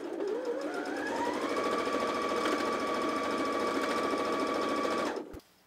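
A new Janome JW8100 sewing machine stitches in one continuous loud whirring run, its motor pitch climbing as it speeds up, holding steady for several seconds, then winding down and stopping near the end.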